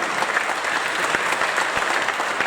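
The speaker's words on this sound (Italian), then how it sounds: "Un applauso al pubblico e ai ragazzi della prima che sono qui con noi" Crowd applause at a presentation of a men's and women's first football team in Portogruaro, a steady, dense burst of clapping from an audience in a hall, moderately loud and even.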